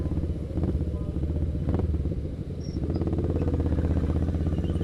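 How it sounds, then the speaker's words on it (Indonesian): A Honda Rebel 500 motorcycle with a modified exhaust rumbles close and steady, its low engine throb pulsing continuously as it rides along. "Motor ini sudah dimodifikasi di bagian knalpot biar suaranya lebih brum-brum gitu"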